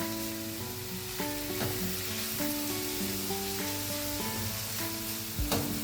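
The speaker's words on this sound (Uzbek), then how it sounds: "Lo'ligini ko'p qovurmaymiz, ozgina qovuramiz." Onion sizzles steadily in a hot pan for borscht, a constant crackling hiss with occasional stirring scrapes, close and without talk, over faint background music.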